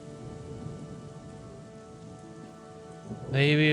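Rain falling in the video game Chronicles of Myrtana: Archolos, a steady soft patter over a low hum that swells louder near the end.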